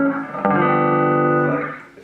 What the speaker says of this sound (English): It's kind of a cleanish, slightly breaking up sound there.